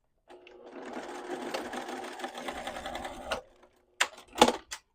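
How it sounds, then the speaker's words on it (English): Sewing machine stitching a strip of fabric at a 1/8 inch seam allowance, a steady close whirring run of about three seconds that stops, followed by a few sharp clicks and clunks of the machine. "So I'm just going to sew this down at 1/8 of an inch seam allowance."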